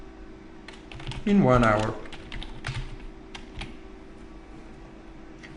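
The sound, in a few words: typing text on a computer keyboard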